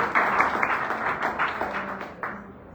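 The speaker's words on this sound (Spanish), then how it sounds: "¿Qué tal si se le da ese aplauso fuerte al ángel y al divino?" A church congregation applauds loudly, a dense burst of clapping that holds steady for a few seconds with occasional sharper swells, no talking over it.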